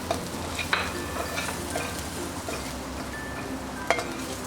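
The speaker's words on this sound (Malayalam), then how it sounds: "ഈ എടുത്തു വച്ചിരിക്കുന്ന പൊടികൾ ഇതിലേക്ക് ചേർത്ത് വഴറ്റി കൊടുക്കാം" Shallots and spice powders sauté in a pan for a Kerala prawn curry, giving a continuous close sizzle broken by occasional scrapes and light clinks of the stirring utensil.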